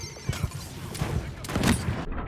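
A single gunshot in a video game fires with a sharp burst near the middle, set against a busy in-game background of other effects and faint voices.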